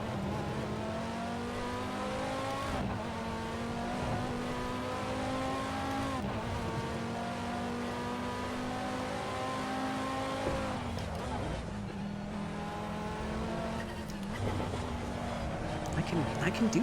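Audi TT race car in a racing video game at Imola, its engine note rising and falling through repeated upshifts and downshifts, with brief tire squeal and a voice talking over the sustained drone.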